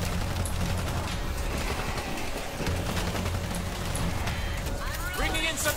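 Gunfire and grenade launcher shots in a shooter video game, rapid bursts and thuds crackling through a busy mix while a person talks over the action.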